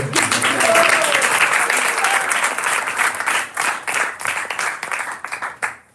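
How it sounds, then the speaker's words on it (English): Loud audience applause from a community gathering at the Bhakti Center, dense clapping that holds steady, then thins into scattered claps and fades out near the end. "Okay, you can applaud."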